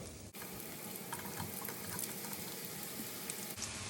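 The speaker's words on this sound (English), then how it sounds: "And then I'm just gonna stir these up and make sure we get them all toasty and fried up" Store-bought Mission corn tortillas fry in a skillet with a constant, even sizzle of hot oil, fairly quiet and uninterrupted, with no voices.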